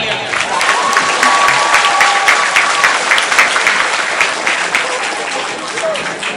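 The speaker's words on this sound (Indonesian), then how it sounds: "Tepuk tangan untuk kalian." Applause from a school audience at a Maulid Nabi celebration, a dense steady clapping that fills the clip at close range with a faint whistle-like tone riding over it early on.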